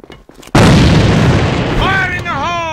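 A grenade goes off during a match with a single loud, sudden boom that fills the clip and then rumbles on, while a voice speaks over the tail end.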